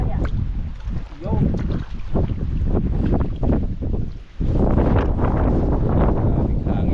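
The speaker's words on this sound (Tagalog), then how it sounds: "Maraming hangin eh." Strong wind roars steadily across open water aboard a boat, a loud broadband rumble buffeting the microphone, surging louder near the end, with someone talking through it.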